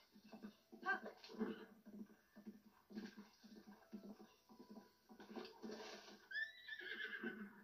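A horse in a video game gives a high, quavering whinny near the end, faint under soft game sounds and a little background talk.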